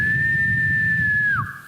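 A person imitates a father's distinctive calling whistle: one loud, close, steady high whistle held for over a second, then dipping sharply at the end.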